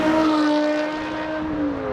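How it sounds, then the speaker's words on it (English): A BMW M5 with a V10 engine and six-speed manual gives a steady, smooth exhaust drone with a rich harmonic tone, heard from inside at a constant moderate level for a couple of seconds with no talking. "The exhaust note on this car, as you're gonna hear from some of these clips,"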